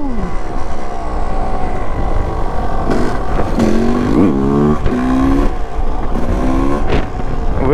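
A powerful motor vehicle is started with one hand and pulled away hard, its engine revving through rising tones in several surges with clear gear-change breaks, loud and close, with no talking.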